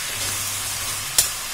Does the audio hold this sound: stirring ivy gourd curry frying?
yes